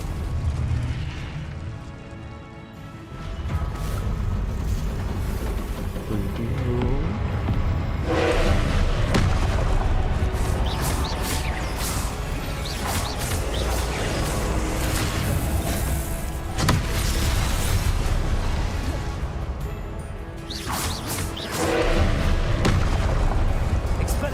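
Blasting-spell explosions in the Hogwarts Legacy game come as repeated loud booms and bursts over continuous combat noise, with a player occasionally talking.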